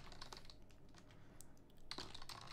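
Keys on a computer keyboard clatter in quick irregular bursts while a username is entered during an Elementary OS Luna installation, a steady stream of close taps that thins briefly midway and then picks up again.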